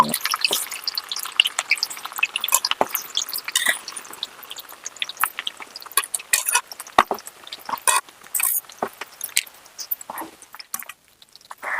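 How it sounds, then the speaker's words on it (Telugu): Okra deep frying in hot oil in a pan, a steady busy crackle of fine pops and sizzles throughout, moderately loud and close with no talking. "ఒక టూ మినిట్స్ ఇవి బాగా డీప్ ఫ్రై అవ్వాలండి"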